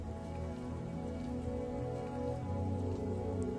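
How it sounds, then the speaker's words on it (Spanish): Steady rain falls in a continuous, even wash of drops on surfaces, heard alone with no voices, suited to a calm mindfulness exercise in nature. "Vamos a realizar un ejercicio de atención plena o mindfulness con la lluvia."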